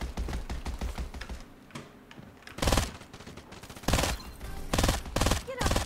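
Close-range gunfire from a gun in the shooter game Farlight 84, sharp loud bursts of rapid shots repeating through the clip, with quieter clicks between volleys.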